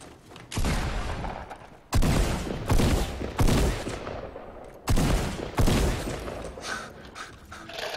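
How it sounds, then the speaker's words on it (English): Gunfire in the Fortnite Battle Royale video game comes in loud, close bursts, several separate rapid volleys with short gaps between them and no talk over them. "why did none of those bullets hit then?"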